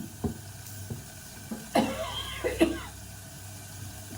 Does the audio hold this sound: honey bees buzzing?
no